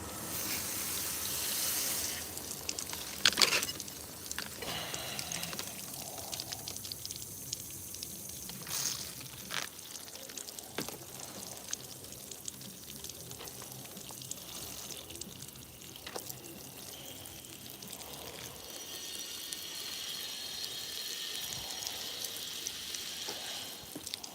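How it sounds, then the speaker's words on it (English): Water is poured onto a bonsai plant indoors, a long, soft, steady trickle and splash with occasional small clinks and bumps, fairly faint, with no talking. "Let's water my plant."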